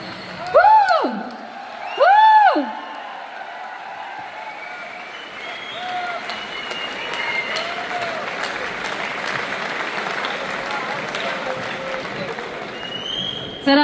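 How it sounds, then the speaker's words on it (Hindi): Live audience applause at a stage show in India, a steady wash of clapping that continues under two loud, rising-and-falling vocal whoops near the start, with scattered cheers through the rest. "बिल्कुल तालियां बजती रहनी चाहिए"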